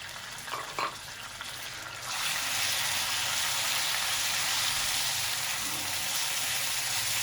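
Chicken pieces frying in hot oil in a pan, with a quieter stir at first, then a loud, steady sizzle that swells after a couple of seconds and keeps crackling close up to the end.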